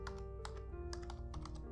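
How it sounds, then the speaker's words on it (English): Rapid keystrokes on a computer keyboard click out in an irregular run, close and clear over a steady low hum. "You can click inside the bar and type what you want"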